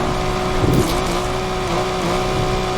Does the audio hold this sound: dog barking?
no